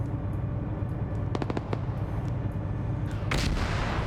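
A LAV-25 autocannon fires armor-piercing rounds in a multiplayer shooter. A quick string of sharp shots sounds, then a heavier blast, over a continuous low battlefield rumble.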